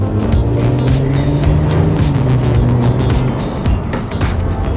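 A Mercedes SLK 350 roadster engine roars close and loud, its pitch climbing a little as it accelerates, with a steady rough rumble throughout.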